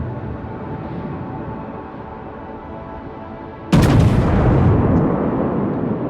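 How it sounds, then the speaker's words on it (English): Battleship firing a full broadside in World of Warships: a sudden heavy boom bursts over a steady low rumble of engine and sea noise, then rolls on with a loud sustained roar and no voices. "Battleships are full broadside."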